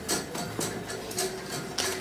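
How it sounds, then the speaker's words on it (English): Whisking a flour roux in a pan during a chef's cooking demo: steady, rhythmic scraping strokes repeating about every half second, close and moderately loud with no talk. "keep whisking"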